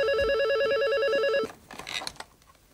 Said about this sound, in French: Ah, c'est mon coup de téléphone, ça.